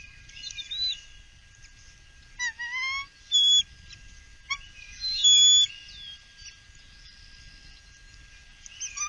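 Female eagle whining at the nest, a series of thin high-pitched whistling, squealing calls in short bursts separated by quiet pauses, fairly clear and close with low background rumble.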